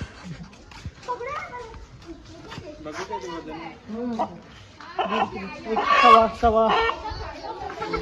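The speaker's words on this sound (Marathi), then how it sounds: "तगडा कोंबडा आहे" A country-breed rooster of about 1.25 kg clucks repeatedly amid excited people talking nearby by a riverside in Indapur, growing louder and busier toward the end.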